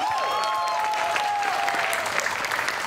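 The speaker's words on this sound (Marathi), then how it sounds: "जोरदार टाळ्या." Loud, sustained applause from a comedy show's studio audience fills the whole stretch, with a faint tonal hum threading beneath the dense clapping.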